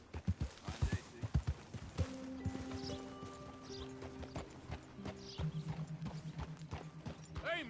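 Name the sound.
horse hooves clopping in video game Red Dead Redemption 2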